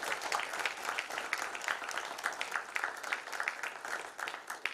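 A group applauds youth 14U football teams at a national championship media day, steady clapping filling the whole stretch with no speech over it.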